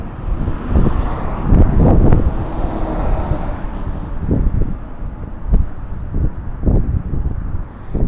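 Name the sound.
wind while driving over the Arthur Kill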